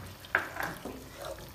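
Finely chopped green chillies hit half a cup of hot oil for a minced-meat and bitter-gourd curry, giving a short sizzling burst with stirring scrapes that fade into a softer fry.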